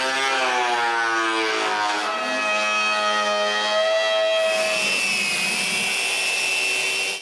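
Power saw ripping walnut into square strips, with a loud close whining tone that bends in pitch as the blade loads in the cut and then settles into a high steady roar.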